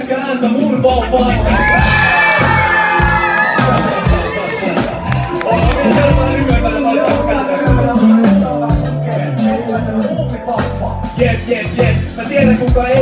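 A crowd at a live freestyle rap show aboard the Viking Grace ferry cheers, whoops and yells loudly and continuously. Voices ring out over the din.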